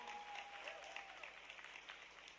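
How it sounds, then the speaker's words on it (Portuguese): A church congregation applauds during a sermon, producing a dense wash of clapping heard at a distance and fairly faint, with a brief voice or tone rising over it. "Você pode aplaudir o Senhor?"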